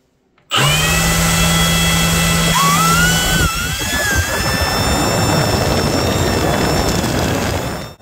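A WORX leaf blower kicks on abruptly and roars at full power in a steady, loud whine with a shifting whoosh of air partway through, running continuously until it cuts off at the end.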